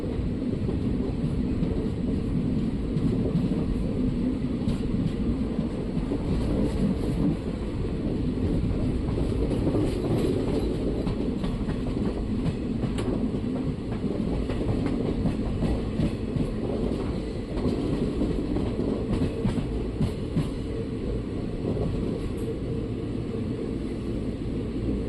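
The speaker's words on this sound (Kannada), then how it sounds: "ನಮ್ಮ ಟ್ರೈನ್ ಈಗ ಬೆಂಗಳೂರು ಕಂಟೋನ್ಮೆಂಟ್ ರೈಲ್ವೆ ಸ್ಟೇಷನ್ಗೆ ಬಂದಿದೆ" A passenger train rolls along the rails as it arrives at Bengaluru Cantonment railway station, a loud, steady rumble with faint clickety-clack running throughout.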